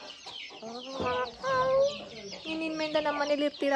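Native country chickens cluck and chatter close by in short bursts, while a voice talks over them.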